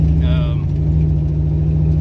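A supercharged 5.3-litre Chevrolet truck engine fitted with an Eaton M122 blower, taken from a GT500, holds a loud, steady, droning rumble up close with a faint whine on top and no breaks.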